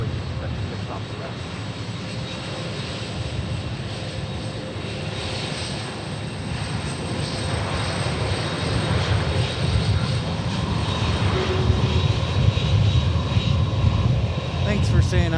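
Boeing 757 jet taxiing at Memphis International Airport, a steady broad engine roar that builds gradually in loudness, with voices talking over it.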